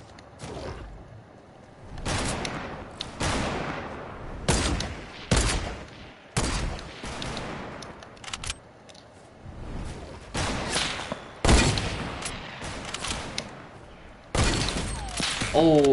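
Sniper gunfire in a shooter video game arrives as a string of sharp, loud single shots at irregular intervals over roughly fifteen seconds, with a player talking excitedly between the bursts.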